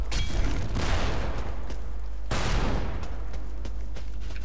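Loud, continuous rattling bursts of gunfire from the video game Magicka, with two sharp onsets and dense crackling that fills the whole stretch.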